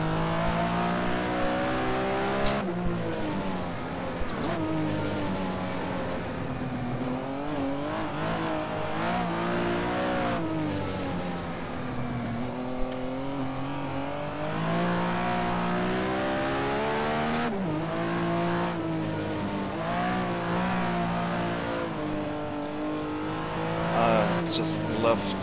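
A Porsche race car slides sideways through a long drift in rFactor, its engine droning and revving with shifting pitch, tires working underneath, and a voice speaking over it throughout.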